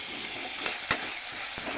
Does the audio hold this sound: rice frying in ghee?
yes